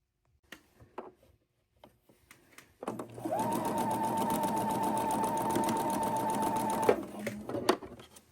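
A sewing machine runs a long straight seam across the width of fabric strips for a quilt, a steady motorized whir lasting about four seconds, preceded by a few small clicks and handling sounds.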